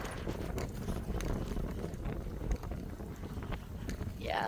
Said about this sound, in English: Yeah, it's totally windy out now that we're out in the open.